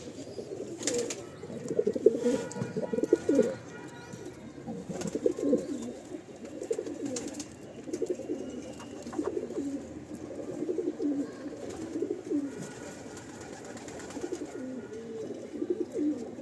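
A breeding pair of pigeons coos in a home loft, low rolling coos repeating steadily through the whole stretch at close range, with faint wing rustles now and then and no talking.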